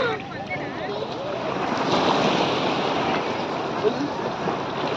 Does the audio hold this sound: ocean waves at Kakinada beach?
yes